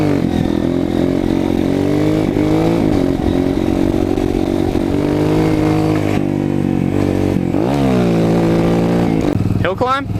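Motorcycle riding on a neighborhood trail, a loud close engine droning and revving continuously with shifting pitch, rising sharply near the end.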